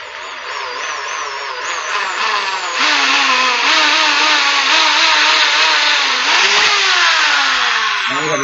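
A drill bores into a model plane part, its small motor giving a steady, close whine that rises and wavers slightly throughout, with no voices.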